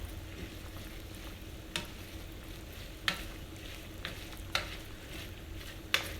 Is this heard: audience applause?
no